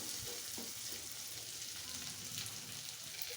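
Meat-filled puri, stuffed with cooked beef, frying in hot oil makes a soft, continuous sizzle and bubbling close by, with a few faint stirring touches early on and no speech.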